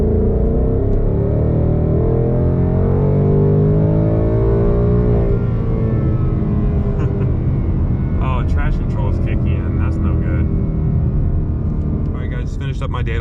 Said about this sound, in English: time to do the wide open throttle log